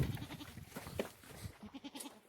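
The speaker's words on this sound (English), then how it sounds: "For an example, I will show you this goat here." A 4-H farm goat bleats several times in a row, fairly close but at low volume, with soft rustling behind it and no talk.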